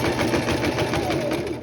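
A sewing machine stitches bias tape along a shirt neckline, its needle running in a fast steady rhythmic chatter that stays close and even throughout, without speech.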